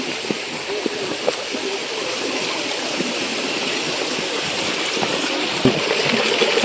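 A small river in a remote rural spot flows steadily, a broad continuous rushing and gurgling of water that stays even and close throughout, with no voices over it.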